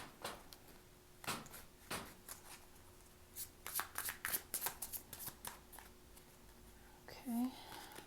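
Close-up riffling and soft slaps of a deck of tarot cards being shuffled, in irregular bursts with brief pauses, quiet and alone.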